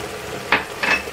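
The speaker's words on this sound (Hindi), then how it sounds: "यहाँ अदरक लहसुन को गोश्त के साथ भूनते हुए 2-3 मिनट हो गए हैं" Mutton fries with ginger and garlic in a pot, a low sizzle broken by two short scraping stirs.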